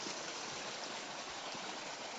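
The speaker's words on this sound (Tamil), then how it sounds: "தண்ணி வேற லெவலில் போயிட்டு இருக்கு." Steady, loud rush of water gushing continuously from a solar-powered 5 HP pump pipe, a dense broadband gush with no pauses and no voices.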